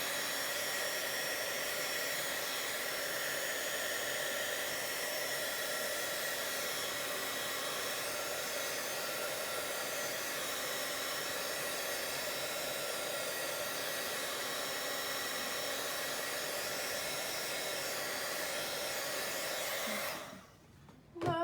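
A hair dryer blows continuously and loudly at close range over a decorated paper envelope, its steady whooshing roar holding for about twenty seconds before it cuts off abruptly near the end.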